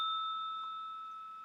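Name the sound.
bell ding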